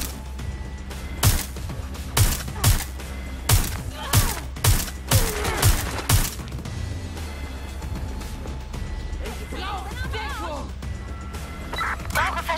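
Gunfire cracks out in sharp bursts during a firefight in the video game Watch Dogs Legion, a dozen loud shots in an irregular rhythm over the first half, then quieter scuffling and a voice talking.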